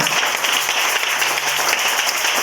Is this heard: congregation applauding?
yes